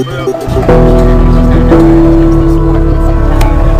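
A blue truck carrying a burial team's leader drives close by, its engine droning loud and steady, rising in pitch as it pulls away, with a voice heard over it.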